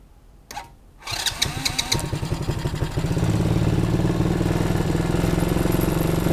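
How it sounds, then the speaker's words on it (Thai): An ATV engine cranks and catches after a short pause, then settles into a loud, steady, close idle. "จะ เริ่ม สตาร์ทรถนะครับ จะนั่งบนรถ ATV นะครับวันนี้"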